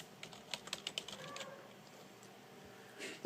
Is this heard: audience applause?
no